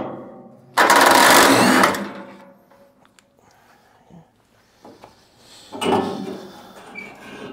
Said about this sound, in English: we're gonna try and take these bolts here out